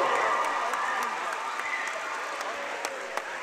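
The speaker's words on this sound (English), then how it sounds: "a nice round of applause for both teams on a well-played game this evening in Taunton High School" A crowd of fans in a high school gym applauds both teams after a well-played game, a steady wash of clapping and cheering that gradually eases off.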